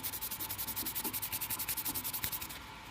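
Rag rubbing a carburetor slide clean for a Honda XR/CRF 80-100, a faint, fast rhythmic back-and-forth swishing of about two dozen strokes, close by and alone.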